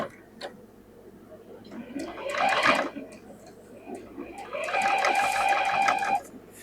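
A sewing machine stitches a curved dress seam in two short, buzzing runs, close by, with a voice talking around and between them.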